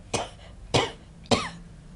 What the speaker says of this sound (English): I've had a bit of a chesty cough lately.